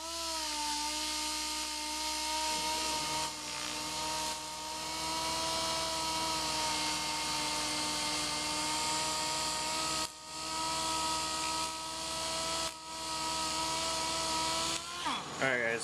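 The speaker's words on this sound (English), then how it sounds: "The nice thing about the DA sander is it can cover the entire blade." A DA sander working across a knife blade at 600 grit, a steady close mechanical whine with a hum underneath, briefly dipping a few times and shifting in pitch near the end.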